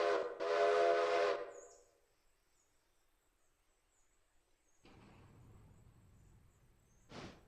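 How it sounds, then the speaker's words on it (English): A steam locomotive whistle in the railroad game Railroader sounds one long, loud blast, then fades, and a quieter rumble follows before a brief final toot near the end. "So let's go ahead and whistle off."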